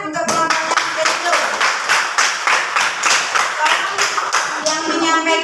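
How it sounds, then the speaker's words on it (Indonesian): Schoolchildren in a science classroom clap together in a quick, regular rhythm of sharp beats, loud and close, with a few voices mixed in near the end. "Beri tepuk tangan supaya semangat untuk kelompoknya itu."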